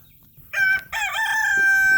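A rooster crows loudly and close by, one long drawn-out call after a short opening note, with no voices.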